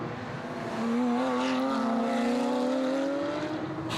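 Porsche GT3 Cup race cars at Spa circuit scream past, engine note rising in pitch as one car draws near and holds a loud, steady whine before fading slightly.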